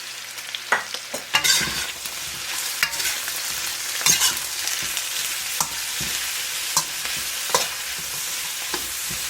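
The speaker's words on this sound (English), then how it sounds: "Now we're going to add the garlic, green onions, and ginger." Garlic, green onions and ginger stir-fried with caramelized lamb leg pieces in a pan, a steady close sizzle broken by repeated scraping and clacking spatula strokes, no talking.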